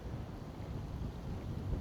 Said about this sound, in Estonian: Ikka mega kõva tuul on siin täna.